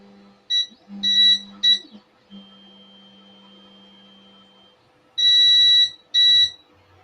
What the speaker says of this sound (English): There's a lot of beeps.